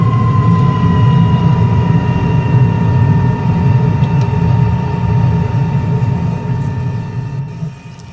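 A de Havilland DH.112 Venom's de Havilland Ghost jet engine idles steadily in Microsoft Flight Simulator, a loud continuous low rumble with a thin whine above it, heard from inside the cockpit and easing slightly at the very end.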